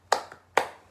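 A classroom of primary school pupils claps in a quick rhythmic pattern, two sharp bursts of hand claps about half a second apart, close and clear with no talking.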